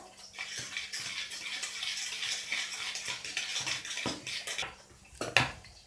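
A spoon scrapes and clinks around a bowl as mayonnaise is stirred into cake batter, a steady wet mixing sound with a few sharp knocks, close and without talk.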